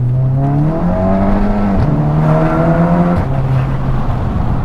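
A tuned UK VW Scirocco R Stage 2 with an RTech tune accelerates hard in second gear through a tunnel. Its loud engine drone climbs in pitch, breaks off abruptly twice and then rises again, echoing off the walls.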